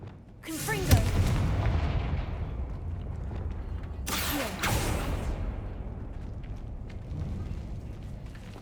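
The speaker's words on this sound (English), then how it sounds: "Confringo." Confringo spell explosions in Hogwarts Legacy: two big booming blasts, one near the start and one about halfway, each rolling off into a long rumbling decay under steady game ambience.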